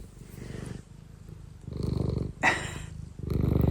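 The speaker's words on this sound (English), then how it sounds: "You're such a loud purrer." Domestic cat purring loudly and close, a deep rhythmic rumble that swells and fades in repeated breaths, with a short louder snuffle in the middle.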